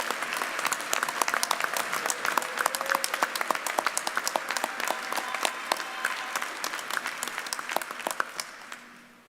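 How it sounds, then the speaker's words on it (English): An audience at a university commencement ceremony applauds graduates with sustained, dense clapping from many hands that carries on for several seconds before slowly fading, heard at a moderate distance. "Please give our Thrive graduates another round of applause."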